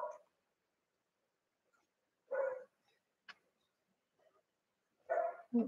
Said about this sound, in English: Oh my God, they're barking again.